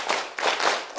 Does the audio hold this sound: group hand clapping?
yes